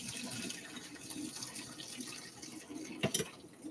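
Water from a pot of pasta is poured through a strainer, a steady splashing rush for several seconds with a couple of louder clatters near the end.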